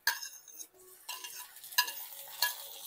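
Garlic sizzles in a hot pan while a utensil stirs it, producing crackling bursts and scraping strokes at a close, moderate level.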